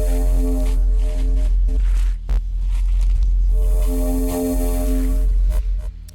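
Grain delay on a horror soundscape: throbbing low hum with stuttering, smeared granular tones and brief clicky breaks, loud and continuous with no talking.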